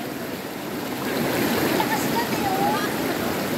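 Strong current of a stream during a family outing: a broad, rushing wash of flowing water, loud and close, swelling slightly partway through, with voices nearby.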